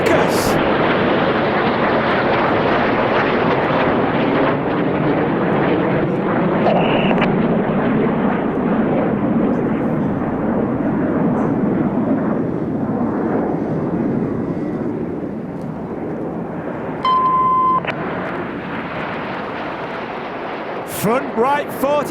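Jet aircraft roar continuously overhead during an aerobatic display team's 6G turn manoeuvre at a motoring festival, a broad loud rumble that swells and fades slightly, with a brief tone and crackle near the end.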